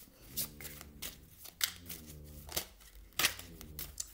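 Tarot cards riffled and flicked in a series of crisp, papery bursts with soft sliding between them, close and fairly quiet, no talking.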